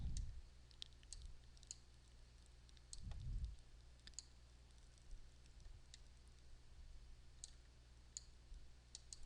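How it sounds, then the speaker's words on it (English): Sparse computer mouse clicks, small sharp ticks scattered irregularly over a quiet room with low background hum and occasional soft bumps. "I'm using a mouse, so sometimes it's not cooperating."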